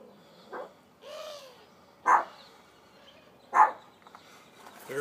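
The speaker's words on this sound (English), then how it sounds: "I hear a dog in the backyard" A few separate barks, spaced out and moderately distant, over quiet background noise.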